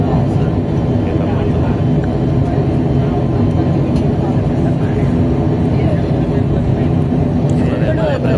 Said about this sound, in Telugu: ఫ్లైట్ అయితే ఎగురుతుంది